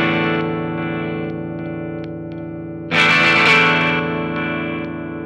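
A 2020 Fender 70th Anniversary Esquire electric guitar on its neck pickup setting rings out sustained chords with effects, then a brighter, louder strummed burst about halfway through that decays slowly, with no talking.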